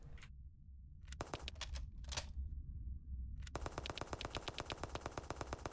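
Gunfire in the indie video game Death Candle: two short loud bursts separated by brief silences, then a sustained run of rapid, evenly spaced shots that continues to the end.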